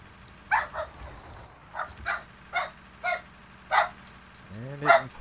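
Several dogs barking in bursts about every half second to second, moderately loud, with short yips and a rising whine at the end, over steady background noise and without speech.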